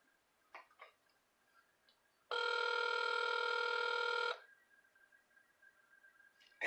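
Ringback tone of an outgoing phone call: one steady ring about two seconds long, set between stretches of quiet line hiss.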